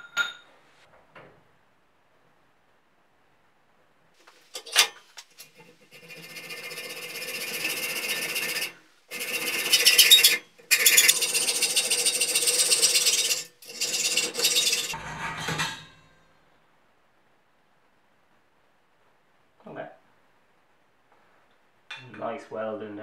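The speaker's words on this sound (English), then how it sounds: "I'm going to chop the two legs off." A power saw grinds through metal tube legs on a Honda Bros NT400 in several long, harsh bursts separated by short pauses, loud and close, then quiet with a few light clinks.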